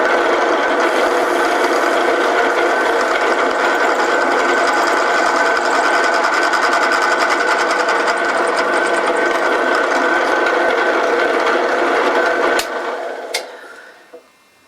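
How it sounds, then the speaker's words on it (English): A loud, steady whirring drill runs continuously through plastic for about twelve seconds, then winds down, followed by a couple of sharp clicks and quiet. "we'll drill straight through both sides"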